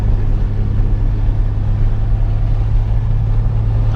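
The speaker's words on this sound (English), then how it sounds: "We'll do some drive-bys so you can see how it looks going down the road when you're driving it" A 1974 Datsun 260Z engine drones steadily and close, with a deep, loud rumble that holds even without a clear pass-by swell.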